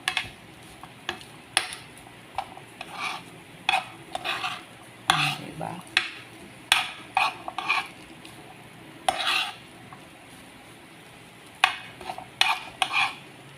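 A utensil stirs and scrapes food around a pan in repeated short strokes with irregular gaps, each scrape bright and close, over a faint sizzle, with no talking.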